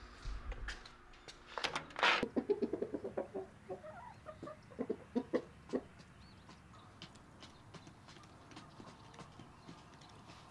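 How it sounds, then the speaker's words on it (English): A rooster at a family home in Dothan, with a short crow-like call rising early, then a spread of scattered clucks and clip-clopping knocks at moderate distance, fading to quieter background. "Let's go check out the rooster."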